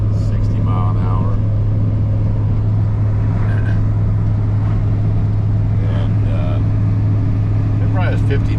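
Cabin drone of a 1989 GMC pickup cruising at about 60 mph, a steady low engine hum and road roar, with a person talking intermittently over it.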